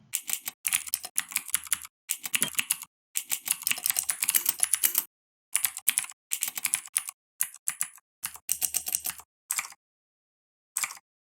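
Close, crisp typing on a computer keyboard during a competitive programming session, with fast clattering bursts of keystrokes broken by short pauses, loud and alone without talk.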